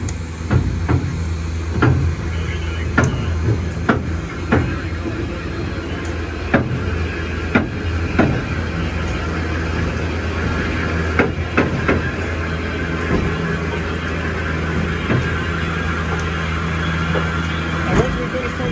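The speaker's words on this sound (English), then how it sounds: "While our engine crew and trainmen are taking the engine around" Southern Railway 4501 steam locomotive being moved around the yard at the Tennessee Valley Railroad Museum during its 60th anniversary event: a low continuous rumble broken by scattered metallic clanks and bangs, with someone talking over it throughout.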